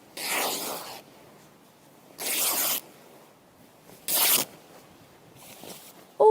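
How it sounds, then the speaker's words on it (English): A cloth sheet ripped into strips by hand after a small starting cut, three loud tearing bursts about a second each, separated by short pauses, close and clear with no talk. "If you get your sheet and you just put a little cut in it, and then"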